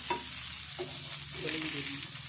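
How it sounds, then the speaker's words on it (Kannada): Mangalore-style fish fry sizzling steadily in a pan, close and moderately loud, with a few soft scrapes as the pieces are turned over; no voices. "ಇದನ್ನು ನಾವು ಫ್ರೈ ಅಂದರೆ ಟರ್ನ್ ಮಾಡಿ ಹಾಕ್ತಿದ್ದೇವೆ"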